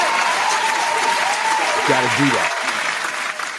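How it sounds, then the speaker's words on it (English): A loud round of applause and crowd noise during a mixshow episode, with a voice talking over the clapping. The sound tapers slightly toward the end. "Ladies and gentlemen, round of applause for floating segments."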